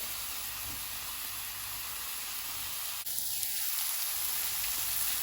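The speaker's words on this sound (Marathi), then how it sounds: "हांव आतां तितू मशरूम घालता" Mushrooms hitting a hot pan for a stew with red wine, a steady broadband sizzle that jumps with a sharp hiss and brief tonal squeal as they are added, then keeps frying evenly without talk.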